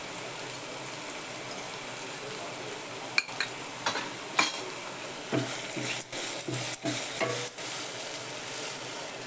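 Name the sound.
cumin and mustard seeds sizzling in hot oil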